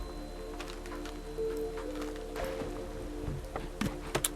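Rain heard through open windows of a room, a steady patter of drops with scattered louder taps over a low hum.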